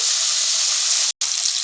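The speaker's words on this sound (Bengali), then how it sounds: "সবগুলো মাছ আমার ভাজা হয়ে গেছে।" Bok fish frying in hot oil makes a loud, steady hiss that fills the moment, broken by one brief silent gap before resuming.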